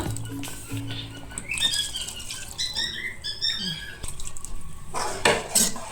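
Water is poured into a pan of mutton kheema sambar, making splashy patter and gurgling with some clattering of a jar and utensils, moderately close.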